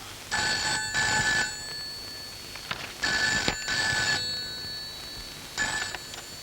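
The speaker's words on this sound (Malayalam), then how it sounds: "ജോണിച്ചായ, ഫോൺ അപ്പച്ചനാ." A telephone rings in double bursts, three rings in all, loud and close with nothing else over it.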